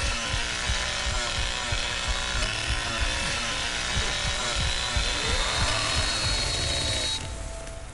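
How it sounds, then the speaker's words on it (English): A chainsaw in The Texas Chain Saw Massacre video game, revved until it overheats: a steady, loud, buzzing engine drone with rhythmic low pulses and a faint high whine, dropping off near the end. "My chainsaw just overheated"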